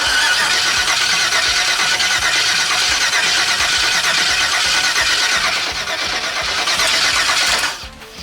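An LS 5.3 V8 swapped into a New Edge Mustang cranks over with a loud, continuous, close-up whirring churn that never catches, then cuts off abruptly near the end.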